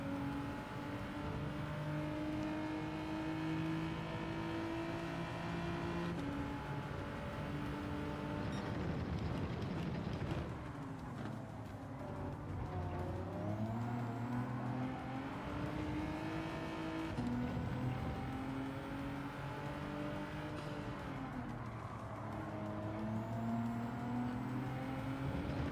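Race car engines from Gran Turismo 7 roar continuously, with sustained revving that rises and falls in pitch through gear changes and acceleration, loud and steady throughout with no talking.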